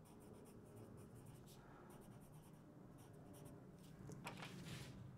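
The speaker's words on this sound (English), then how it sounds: "So I'll write werewolf here." A pen or pencil writes on paper close by, quiet scratchy strokes in short bursts, growing a little louder toward the end.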